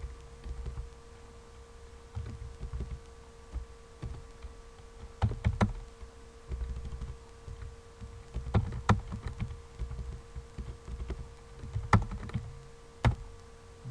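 A command is typed on a computer keyboard during a Linux shell session, with quiet, irregular key clicks and a few sharper taps over a faint steady hum.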